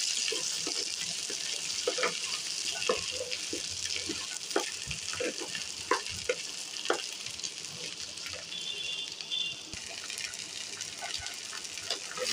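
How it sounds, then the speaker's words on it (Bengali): Seeded bananas (bichi kola) fry in hot oil with browned onions, a steady close sizzle with occasional clinks and stirring scrapes of a spatula against the pan. "এখন আমি বিচি কলাগুলো ছেড়ে দিব তেলের উপরে।"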